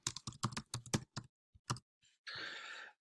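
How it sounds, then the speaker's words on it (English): Quick bursts of keystrokes on a computer keyboard clatter in an irregular rhythm, close and fairly quiet, followed by a short breathy sigh-like hiss. "I'll type it in."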